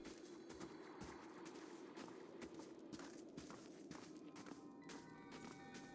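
Footsteps in the video game Pillars of Eternity, a steady run of soft, fairly quiet steps over a constant background ambience, with no voices.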